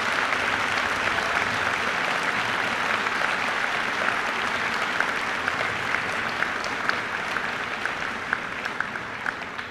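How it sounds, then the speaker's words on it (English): Steady, sustained applause from the audience at a high school awards ceremony after student names are read, an even wash of many hands clapping throughout with no voices. "Please give them a round of applause."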